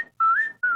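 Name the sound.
person whistling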